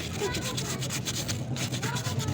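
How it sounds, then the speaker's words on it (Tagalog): Steady raspy rubbing strokes, a close scratchy scraping repeated in quick rhythm, sandpaper worked over a burnt welding cable, with faint background noise. "Lilihahin lang natin. Lilihahin lang ng liha."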